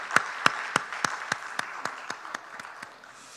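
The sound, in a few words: congregation applause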